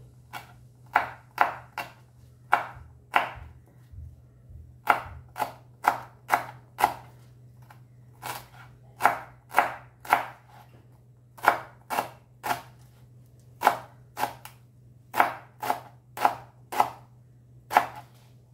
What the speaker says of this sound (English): make a bunch, and then chop it fine